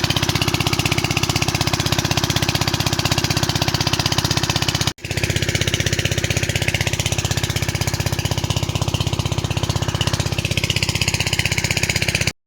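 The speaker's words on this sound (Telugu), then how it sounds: "అందుకే ఆ ఇంజన్ సౌండ్ వస్తుందని చెప్పి బ్యాక్గ్రౌండ్ వాయిస్ తీయాల్సి వచ్చింది" A water pump engine irrigating a cotton field runs loud and close with a steady, even chugging drone. It cuts out for an instant, then carries on unchanged.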